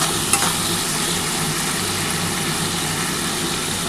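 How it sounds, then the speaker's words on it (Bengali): Whole cumin seeds crackle and sizzle in hot cooking oil, a dense, steady hiss. One sharp pop comes near the start. The frying continues close and loud, with no talking. "আমি এই তেলের মধ্যে গোটা জিরে ফোড়ন দেবো একটু"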